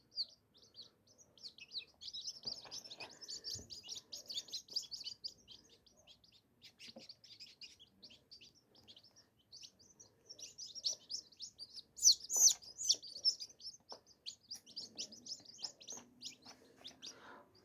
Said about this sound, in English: And here they are, all the little chicks.